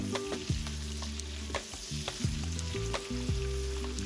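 Pork belly with fermented black beans sizzling as it is stir-fried in a wok, a steady close crackle under intermittent scraping and tossing strokes, with a low tonal hum behind.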